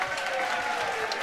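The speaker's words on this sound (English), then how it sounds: "One more round of applause for yourselves as an audience." Audience at a live big band concert at Sony Hall applauding steadily, a dense, even wash of clapping throughout with no break.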